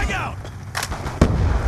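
Frag grenade blast in Call of Duty: Black Ops 2 team deathmatch on Wii U, a sharp booming explosion with gunfire-like cracks, brief and loud over game chatter and a shouted callout.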